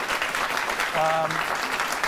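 A studio audience at a television talk show claps in an even, steady wash of applause throughout, with a brief voice rising over the clapping partway through.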